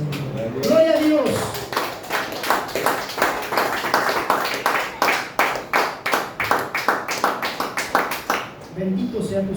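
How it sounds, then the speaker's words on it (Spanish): A church congregation claps in a steady, rhythmic beat, a long run of sharp evenly spaced hand claps close and loud, with a voice speaking briefly at the start and again as the clapping ends. "Denle aplauso al Señor"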